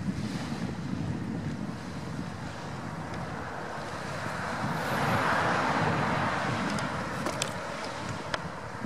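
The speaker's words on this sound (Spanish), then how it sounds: "Esta es la playa de Pucura. Hay un atardecer increíble." Surf washing onto Pucura beach on the lakeshore at sunset, a steady broad roar of waves swelling louder toward the middle, mixed with gusty wind buffeting the microphone and no speech.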